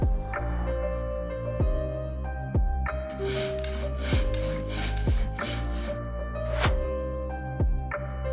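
Wooden boards being cut for a mini-van kitchen build, with regular rhythmic cutting strokes repeating close by, no talking.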